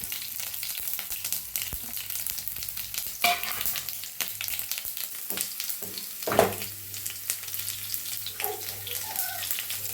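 Steady hissing sizzle of shallots frying in coconut oil with mustard seeds, with stirring scrapes and an occasional louder clatter; no talking.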